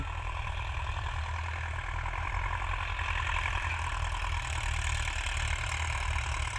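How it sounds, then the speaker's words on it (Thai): A tractor's heavy diesel engine chugs steadily at close range, a continuous low rumble with a faint mechanical clatter, no voices. "ฟังเสียงรถไถเป็น"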